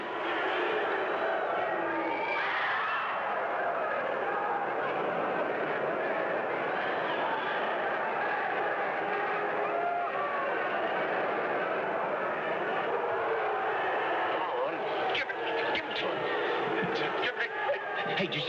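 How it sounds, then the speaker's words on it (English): A dense, continuous crowd roar fills a boxing arena before a fight, a broad wash of many voices swelling steadily throughout, with sharper bursts of cheering and clatter near the end. "Listen to that crowd roar."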